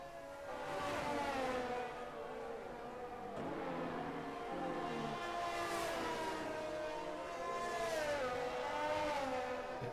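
An F1 car engine in the F1 22 video game whines on the DRS straight at the French circuit, pitch rising and falling through several gear shifts, steady and moderately loud with no talking.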